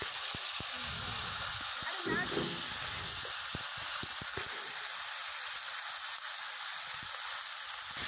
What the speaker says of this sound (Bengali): তো আবারও কিছু সময় কষিয়ে নেব মাংসটাকে।